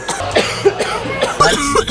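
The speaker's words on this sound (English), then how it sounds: "Oh, I kept coughing." A few short, rough coughs close by, mixed with some throat noise and a brief voice.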